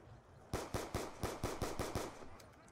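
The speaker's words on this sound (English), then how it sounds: "I'm just using this pistol to get the most points, aiming for the head because headshots are worth the most next to knife kills" Rapid pistol shots in the Call of Duty Zombies video game, about nine sharp, loud reports fired in a quick, even rhythm, standing alone with no talk.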